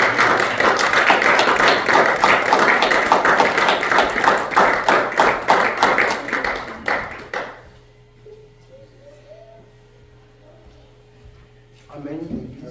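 A church congregation claps in a steady, rapid rhythm of dense applause with talk over it, then the clapping stops abruptly and a quiet, near-silent room follows.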